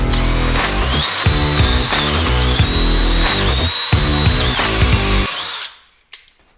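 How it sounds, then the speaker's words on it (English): A power drill bores a half-inch hole through a steel steering stabilizer mount on a Jeep JL Wrangler, a loud steady whine with ratcheting pulses that runs about five seconds before spinning down and stopping, followed by a brief clank. "it needs to be drilled out to 1/2 inch hole on both ends"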